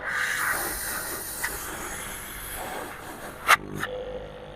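A three-phase 4-ton scroll compressor runs with a steady broadband hiss and hum, loud and close. Two brief sharper clicks come near the end.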